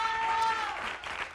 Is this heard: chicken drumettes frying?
no